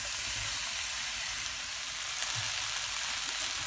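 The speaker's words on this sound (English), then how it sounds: "all my masalas and things been cooking for about a couple of minutes" Masala for chicken bhuna, with garlic, ginger, tomatoes and whole green chillies, sizzles in a pan in a dense, steady hiss, close and even, with a few faint low knocks.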